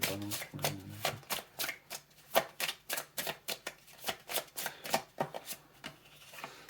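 Tarot cards being shuffled at close range, a rapid series of crisp riffling snaps and slaps in an uneven rhythm, with a brief low voice at the start.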